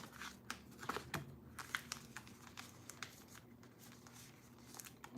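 Tarot cards shuffled by hand produce quiet, irregular riffling and flicking clicks in uneven bursts, close and soft, with no talking.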